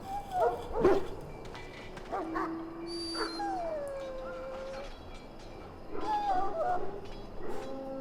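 A dog in the video game Dragon Age: Origins whimpers with high, drawn-out whines and gives a few short yelps and barks, close and clear, with quiet pauses between the cries.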